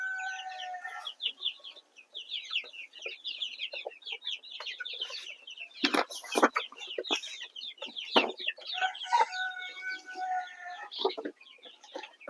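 A flock of chickens, including large hens, clucks and chatters continuously nearby on a farm, with a few louder squawks and wing or feeder clatter mixed in.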